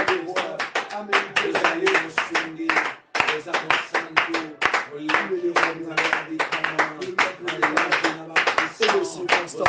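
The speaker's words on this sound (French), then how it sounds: "C'est pour cela, acclamons pour Dieu, car il est Dieu, il est le roi des rois" A church congregation claps steadily in a brisk, even rhythm, loud and close, with a brief pause partway through, while voices acclaim and praise God over the clapping.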